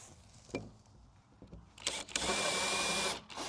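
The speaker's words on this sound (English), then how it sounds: "So reposition my barrel, and now I'll drill my hole." A few handling knocks, then a power drill whirs loudly and steadily for over a second as it bores a hole through a plastic barrel, close by.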